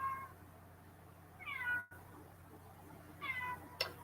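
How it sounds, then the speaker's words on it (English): A house cat meows twice, close and clear, each cry rising then falling, spaced apart with a quiet hum between and a brief click near the end. "you hear my cat meowing right now?"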